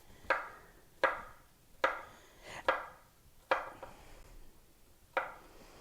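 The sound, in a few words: knife slowly slicing a log of compound butter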